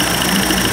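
A 1990s 30 hp Evinrude outboard engine idles close by, giving a steady, loud, even mechanical hum for the brief moment, with no voices present.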